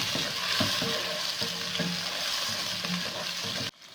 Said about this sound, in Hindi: तो लहसुन अदरक ब्राउन हो गया, साथ में डालेंगे 2 टमाटर। इनको अच्छे से भूनेंगे।